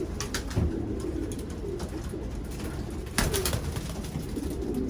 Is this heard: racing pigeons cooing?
yes